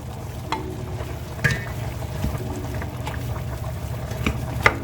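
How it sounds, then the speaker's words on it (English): Sausages sizzle and bubble in rendered beef fat in a pan, a steady soft crackle with occasional louder pops and spatters, no voices. "The beef already produced its own fat, the oil, so now I can add the sausages."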